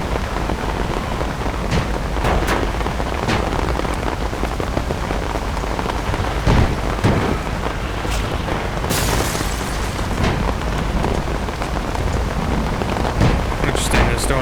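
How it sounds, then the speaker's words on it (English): Storm in the video game Lost Planet 3, steady loud rain with bursts of crackling noise and low rumbling booms throughout. "Interesting, the storm, you can hear like the electrical feedback."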